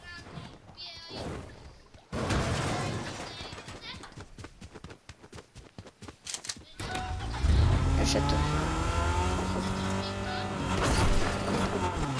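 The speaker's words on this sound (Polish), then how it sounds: "Samochód mnie uderzył." A car in the Fortnite battle royale video game drives up and strikes the player, with engine noise rising to a loud rumble amid rapid game sounds, while players talk over it.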